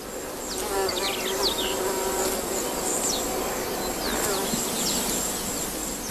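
A bee buzzing as it approaches a flower, a close droning hum that wavers in pitch as it moves, with other insects and faint bird chirps in the background.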